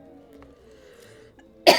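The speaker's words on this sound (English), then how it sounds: "Sorry about this cough." A single sharp cough bursts out close to the microphone at the very end, after a stretch of quiet room hum.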